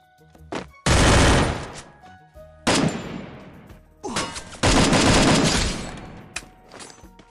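Bursts of automatic gunfire crack in a shooter video game, loud and close, in several long rattling volleys separated by short pauses.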